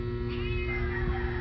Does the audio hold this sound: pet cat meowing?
yes